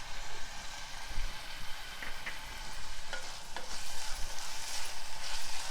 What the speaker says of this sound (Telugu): అల్లం వెల్లుల్లి కొంచెం పచ్చి వాసన పోయే వరకు వేయించుకోవాలి